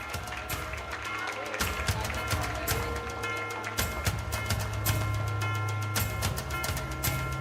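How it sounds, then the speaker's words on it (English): Audience applause at a Model United Nations award ceremony, brisk overlapping clapping sustained over a low steady tonal hum, with no clear talking. "Come on, audience, a big round of applause."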